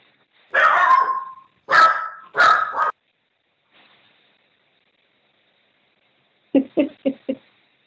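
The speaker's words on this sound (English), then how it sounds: "And now all of a sudden they start barking" Dogs bark indoors: three loud, close barks in quick succession, a short pause with a faint whimper, then a rapid burst of four sharper yips.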